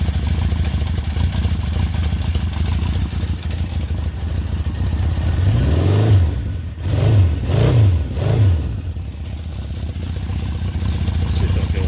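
A 1976 Honda CB750 motorcycle engine idles roughly, then gets several quick throttle blips with rising and falling revs in the middle before settling back to a steady idle, close and fairly loud.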